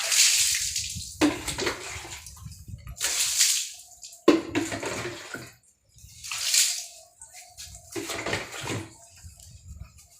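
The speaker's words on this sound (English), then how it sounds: "We're back with a little bucket of water." Water from a small bucket thrown for cleaning a muddy area at home, repeated close splashes and sloshes in uneven bursts with drips between, no talk.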